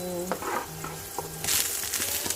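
Onions sauté in a pan while fried kuey teow is being made, a bright continuous sizzle broken by utensil scrapes and stirring clatter against the pan, close and alone.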